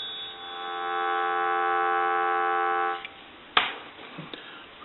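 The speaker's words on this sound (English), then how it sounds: "Give you some dial tone." Steady hum of a dial tone on a Western Electric 233G three-slot payphone lasts about three seconds, then cuts off, followed by a sharp click and a few faint handling knocks.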